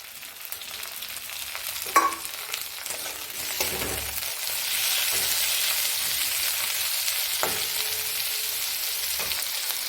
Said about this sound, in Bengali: পেঁয়াজ রসুনটা ভাজা ভাজা হয়ে গেছে, এবার একটা টমেটো কুচি দিয়ে দিলাম আর 2টো লঙ্কা কুচি দিয়ে দিলাম।